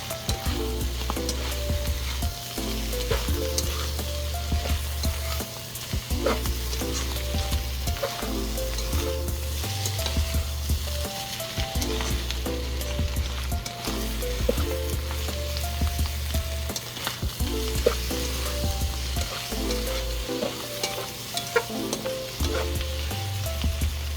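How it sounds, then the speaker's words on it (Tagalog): Filipino-style spaghetti sizzles steadily in a pan while being stirred, with repeated scraping strokes over continuous frying hiss and a low background hum, no talking. "Mix lang nating maigi."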